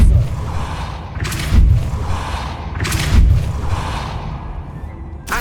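Force-push spell cast in the Hogwarts Legacy video game, heard as repeated heavy whooshing booms with thuds, several bursts in a few seconds.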